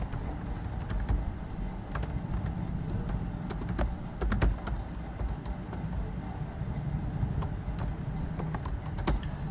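Rapid clattering keystrokes on a computer keyboard continue throughout, close and steady with a few louder key hits, a command being entered at a terminal with no talking.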